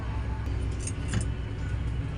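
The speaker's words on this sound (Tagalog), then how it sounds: "Traffic." Road traffic around a moving vehicle on a trip to Dingalan, Aurora Province: a steady low rumble of cars with faint clinks and jangles, heard from inside close by.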